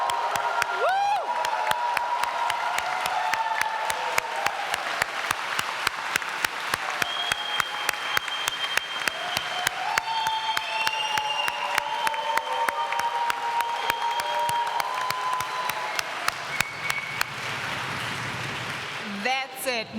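Graduation audience in a chapel applauding and cheering, dense sustained clapping with whoops rising over it for nearly the whole stretch, fading near the end as a voice speaks.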